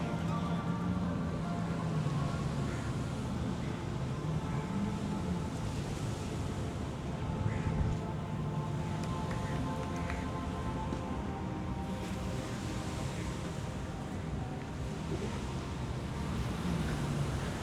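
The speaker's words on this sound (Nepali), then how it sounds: "रोडमा गुड्ने होइन, पानीमा गुड्ने कार हो" An amphibious car cruises on the water at Dubai Marina, its steady engine drone blending with constant water wash and wind buffeting for the whole stretch, with no pauses.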